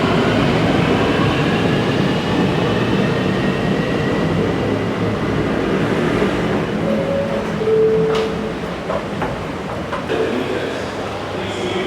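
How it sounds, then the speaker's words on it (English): A Kuala Lumpur MRT/LRT metro train pulls away from Masjid Jamek station, a steady rumbling roar that slowly fades, with a brief electric whine and clatter later and a voice over it. "And there goes my train."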